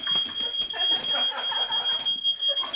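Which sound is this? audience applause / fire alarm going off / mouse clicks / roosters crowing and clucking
fire alarm going off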